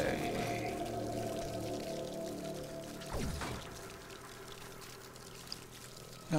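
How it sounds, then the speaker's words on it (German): Water pouring and splashing in the video game Singularity, a continuous rushing stream that fades slightly, then a sharp crackling burst of sparks midway and a brief click near the end. "Wasser und Funken."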